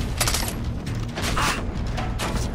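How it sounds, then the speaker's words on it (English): Gunfire in the Far Cry 3 video game, a dense burst of shots rattling under continuous mechanical game noise, with no talking. "Somebody's shooting me from here."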